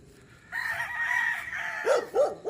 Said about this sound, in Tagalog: Sa kabila naman may mga manok din, dami.